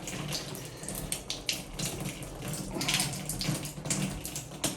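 Water pours steadily from a leaking Delta shower valve in a continuous hissing splash, close and moderately loud, with no voices.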